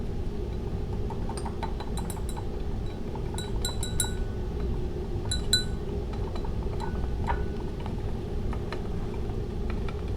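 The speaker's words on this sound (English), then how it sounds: "Use my little stirrer here. Going to mix this up." A little stirrer clinks against a glass while mixing bioplastic solution, with bright, irregular taps and chimes spread over a steady low background hum.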